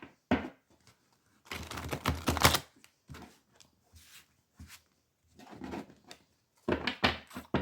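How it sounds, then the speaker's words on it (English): Tarot cards are shuffled in quick bursts, a crisp riffling and flapping that comes and goes in several loud clusters with short pauses between, close to the listener and with no voices. "first let me shuffle the cards"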